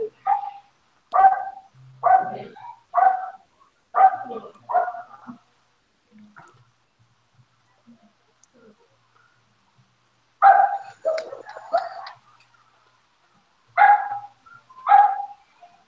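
Several dogs barking in two bursts, a quick run of barks, a quiet pause, then more barks, fairly close and with no talk over them.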